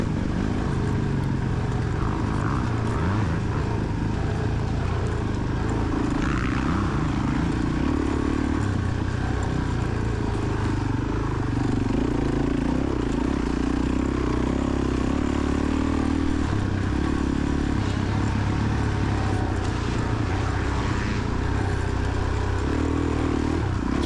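Suzuki DRZ400E dirt bike engine in an IXCR Whiskey River cross-country race, a loud, continuous droning roar that pulls steadily as it climbs a hill, heard up close from the bike.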